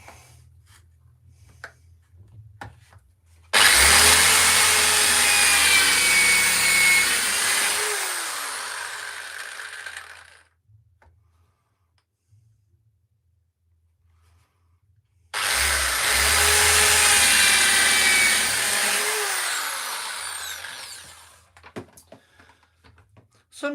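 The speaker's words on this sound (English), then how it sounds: "I like to drill it so it doesn't split the wood" Power drill boring pilot holes in wood for screws, two loud sustained whirring bursts of several seconds each, separated by a quiet pause with faint handling clicks.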